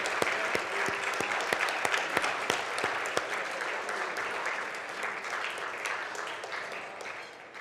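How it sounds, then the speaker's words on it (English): A gala audience at an awards ceremony applauds the judges, with a few sharp distinct claps early on that merge into a full, steady round of clapping, gradually easing off toward the close. "ask everyone to give our judges, some of whom may even be here tonight, a hearty round of applause."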